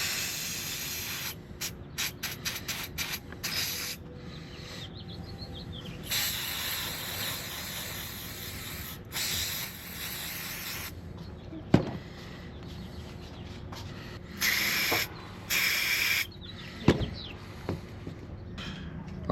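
Spray cleaner misted onto metal engine parts of a Scion tC during maintenance, heard as a series of short hissing bursts with brief pauses between them, close to the microphone amid faint background noise.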